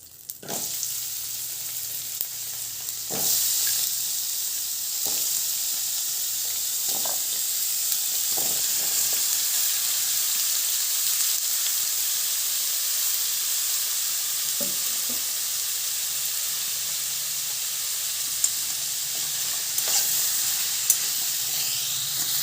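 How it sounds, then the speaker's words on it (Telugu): Raw papaya pieces fry in a little oil with a steady, close sizzle and hiss. A few clinks of stirring come mostly in the first seconds, and no one speaks. "కొద్దిగా ఆయిల్ వేసుకొని ఈ ముక్కలన్నీ వేపుకుందాము బొప్పాయికాయ ముక్కలు"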